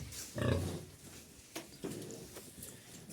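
A pig grunts loudly once near the start, followed by a few softer snuffling grunts from a smaller boar and low farmyard noise.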